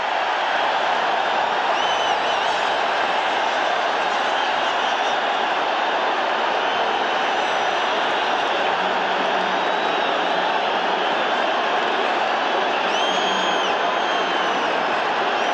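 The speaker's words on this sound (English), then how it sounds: "now listen to this crowd" A loud, steady roar from the stadium crowd at a 1985 Cowboys vs. Giants football game, rising as a kickoff returner runs the ball back to the 30-yard line, with no break in the dense wash of noise.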